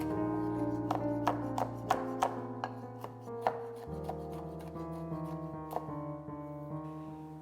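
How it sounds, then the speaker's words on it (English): A knife finely chopping a deseeded long red chili pepper on a cutting board, a brisk run of sharp, evenly spaced taps, close and clear over a sustained musical tone. "Deseed 1 long red chili pepper and finely chop."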